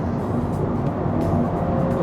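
Honda Civic RS Hybrid (2023) in Sport mode playing its simulated engine sound, a steady low droning rumble inside the cabin, continuous and moderately loud, with no talking.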